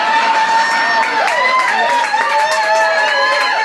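A comedy show audience whoops and cheers loudly and continuously, many overlapping rising and falling voices filling the room, with no talk from the stage.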